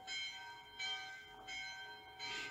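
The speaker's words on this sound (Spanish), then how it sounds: "escuchen una campana, es la campana del convento donde estoy" A convent church bell rings in repeated strokes, each bright metallic tone with long sustained overtones, sounding about every three quarters of a second at moderate distance with no voices.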